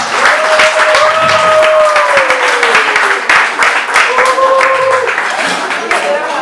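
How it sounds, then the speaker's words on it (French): Loud, sustained applause for the members of Angers Show Côte d'Ivoire at a wedding celebration, many hands clapping steadily while a voice carries on over the crowd. "Je voudrais qu'on puisse applaudir tous les membres d'Angers Show Côte d'Ivoire."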